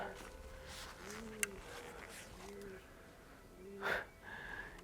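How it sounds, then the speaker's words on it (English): Pigeons coo softly in the roof of an abandoned golden palace in Italy, a few low rolling calls spaced apart in a quiet, echoey interior, with faint shuffling and a brief burst of noise. "You just hear the pigeons on the background."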